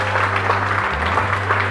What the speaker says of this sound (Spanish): Palmas para ustedes.